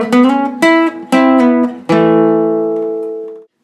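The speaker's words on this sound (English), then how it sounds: "There's a little riff that plays at the end of the second part." A short guitar riff: four quick plucked notes, then a final chord left ringing until it fades out, played alone and clearly.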